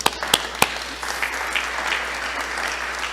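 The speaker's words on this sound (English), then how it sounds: "That just needs a applause right there." Applause from an audience at a church annual meeting, opening with a few sharp, close claps before settling into a moderate, even patter of clapping that continues steadily to the end.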